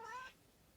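A young cat rescued after being abandoned as a kitten gives a single short, fairly loud meow at close range, which fades into quiet room noise.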